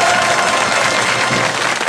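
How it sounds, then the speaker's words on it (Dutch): A studio audience at a Dutch television quiz show applauds steadily, a dense, loud burst of clapping that fills the whole moment without a break. "daar mag u best wel even voor klappen"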